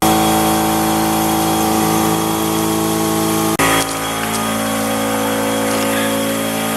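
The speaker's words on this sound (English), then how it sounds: "That's an air compressor running in the background." An air compressor drones loudly and steadily in a workshop where a Triumph TR6 is being worked on, its tone shifting abruptly partway through, then running on.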